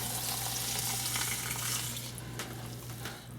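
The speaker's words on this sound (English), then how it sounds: "Then we'll add our water." Water poured from a tap into a bowl of dry rice, a continuous close rushing splash with a steady hum beneath, easing slightly toward the end.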